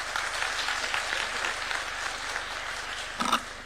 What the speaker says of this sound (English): Another round of applause for Professor Patrick